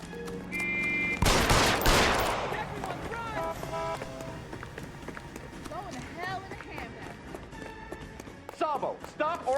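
Gunshots in L.A. Noire: a loud burst of fire early on, then scattered shots, footsteps and hoofbeat-like clatter, with game dialogue and tonal effects running underneath.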